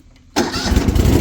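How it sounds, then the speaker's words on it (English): A 52-inch Exmark Lazer Z commercial zero-turn riding mower engine catches abruptly after a short quiet moment, then runs on loud and steady at a rough idle close by. "So let's fire it up."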